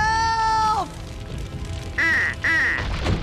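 Cartoon ducks quack in an animated robot series, a long nasal quack followed after a pause by two short, sharp quacks, clear and close over faint background noise.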